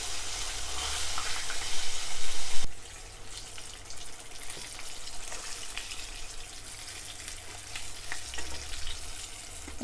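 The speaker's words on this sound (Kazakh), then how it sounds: "Осылай керемет болып қуырылып жатыр." Fish pieces frying in hot oil in a pan, a loud steady close-up sizzle that drops sharply after a few seconds and then continues at a lower, crackling level, with no voices.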